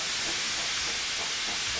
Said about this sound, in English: Black steam out of a cylinder cox.